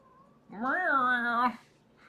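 A black cat gives a single drawn-out meow, rising then leveling off, close and clear in a quiet indoor room.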